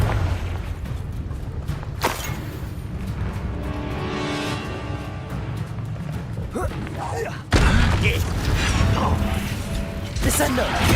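Hogwarts Legacy combat with repeated Confringo blasting spells, heavy booms and thuds under busy mechanical game noise, with a sharp loud impact partway through and more crashing after it.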